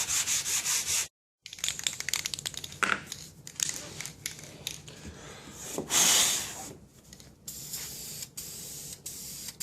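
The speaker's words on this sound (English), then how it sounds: "it makes really short work of sanding those flutes out." Sanding block with sticky sandpaper rubbing back and forth along wooden trim flutes cut with a circular saw, a close, steady abrasive scratching with brief pauses and one louder burst.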